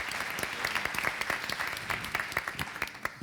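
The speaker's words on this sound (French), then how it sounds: "on vous applaudit bien fort" A small audience gives a short round of applause at a financial awards ceremony, brisk irregular claps, fairly quiet and close.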